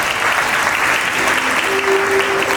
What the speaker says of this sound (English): Let's greet her with a big round of applause.